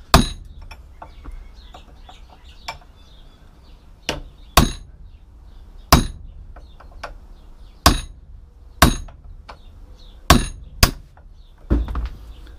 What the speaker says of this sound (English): If I had a better chisel, probably get through quicker.